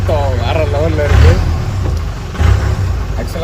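A Willys U.S. military jeep engine rumbles low and steady in Chennai, with deep throbbing pulses under loud nearby talking.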